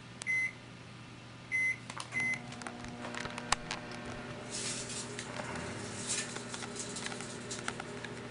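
Microwave oven running with a Candyland CD inside, a steady low hum interrupted early by short beeps, then crackling, popping and sputtering bursts as the disc arcs.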